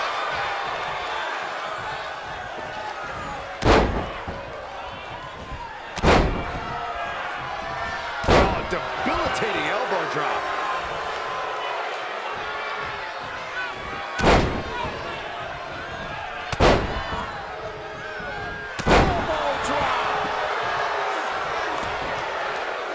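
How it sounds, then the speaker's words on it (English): Wrestling video game elbow drops, six heavy slamming thuds spaced a few seconds apart, each a sharp booming impact over crowd noise and an excited commentator talking throughout. "Carefully measured elbow drop, followed by another, unleashing a barrage on their opponent."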